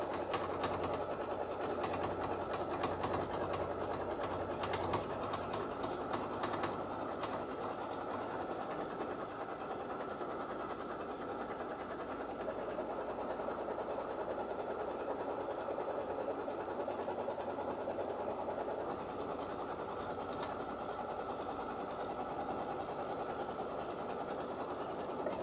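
A sewing machine runs steadily and close by as it tacks stitches through quilt batting. Its fast, even mechanical whir hums along without a break, and no one speaks over it.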